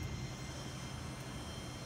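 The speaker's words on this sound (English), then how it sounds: "This is 650cc, single cylinder, all electric start, automatic decompression when you hit the start button." A 2012 Suzuki LS650 Boulevard S40 with a 650cc single-cylinder engine runs at a steady idle, giving a low, even, continuous drone with no talk over it.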